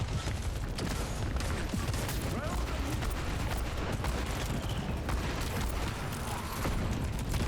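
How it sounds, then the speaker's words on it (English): A flashbang explodes during a hectic first-person game fight, part of dense, continuous gunfire and blasts that fill the mix at a steady high level, with a player talking over it. "A fucking actual flashbang."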